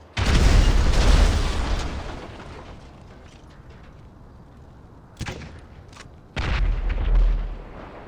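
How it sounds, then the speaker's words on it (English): Grenades blast in the video game GTA 5 Online: a loud, deep boom opens, fading into a rumbling tail, then a sharp crack and a second heavy explosion follow close by. "when in doubt, grenades."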